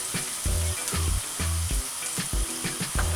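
Garlic sizzles in a pan with Maggi blocks and brown sugar as a rhythmic series of knocks and scrapes from stirring sounds over it, all at a steady moderate level.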